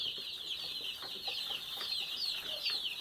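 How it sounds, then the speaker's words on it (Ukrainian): Chicks peep continuously in a high, chattering chorus, with occasional soft clucks and scuffling underneath. "Може курчата це стадні животні, бігають друг за другом."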